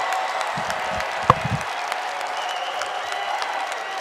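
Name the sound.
crowd cheering after a grappling match victory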